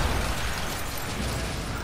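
Gas ignites and explodes after gunfire in the horror game The Evil Within, a loud roaring burst of flame that holds steady for the short moment, with no voices.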